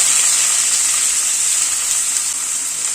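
Three large chopped onions sizzle and fry in hot oil in a pan, a loud steady hiss close up with no talking.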